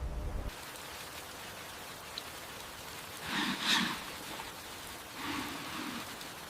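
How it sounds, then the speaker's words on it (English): Torrential rain from an afternoon thunderstorm pounds the open savanna beside a lake, a steady broad wash of downpour with two brief louder surges of heavier drumming partway through, no voices. "Torrential rain instantly hammers the savanna, washing thick layers of red dirt down the banks and into the lake."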